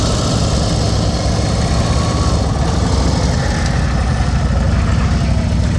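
A motorcycle engine runs close and loud at low speed during slow-speed riding drills, a steady throbbing rumble with slight fluctuations in throttle throughout.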